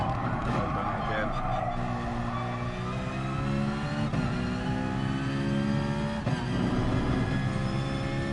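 A Citroen race car in Gran Turismo Sport on PS4 Pro revs and climbs through the gears in a daily online race, its engine note rising and dropping loudly and continuously through the lap.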